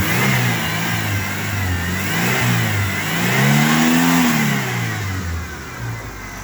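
Close, loud engine of a 1993 Ford Ranger pickup running after a dose of carburetor cleaner, a steady rumble with a rise in revs midway before settling back toward idle.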